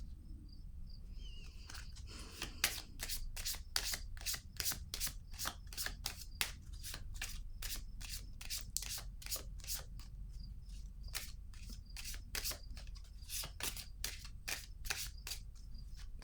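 Tarot cards are shuffled by hand close up in a long run of quick, even riffling flicks. The shuffling is soft and steady in a quiet room, with no speech.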